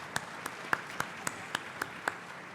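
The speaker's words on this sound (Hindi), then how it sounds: "एक बार जोरदार तालियों के साथ हम अपने सभी पैनलिस्ट का स्वागत करेंगे यहाँ पे।" Sparse, evenly spaced claps from a small audience at a college debate event, around eight distinct hand claps in a slow steady rhythm, fairly faint and thin rather than a full ovation.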